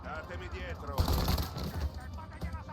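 Gunfire in the video game Mafia rolls out as a dense, rapid volley of shots lasting over a second, with quieter single shots trailing afterwards, while players talk over the action.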